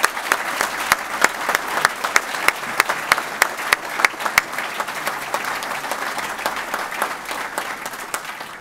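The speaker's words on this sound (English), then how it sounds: "I think that deserves a round of applause." Audience applause at the Celebrating Success 2019 awards ceremony, a dense, steady clapping from a large crowd that carries on for several seconds with no talk over it.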